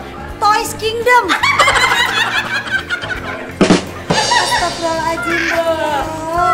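A chicken gives loud, fowl-like squawking clucks in bursts. Voices and laughter are mixed in close by.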